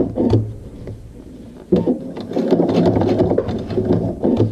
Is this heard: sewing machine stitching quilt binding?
yes